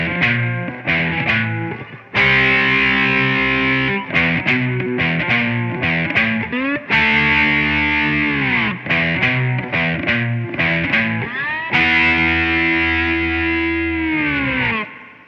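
Fretless cigar box guitar playing a lick up to speed through a distorted effects sound, with sustained notes sliding between pitches in a steady driving rhythm, loud and close, with no talking.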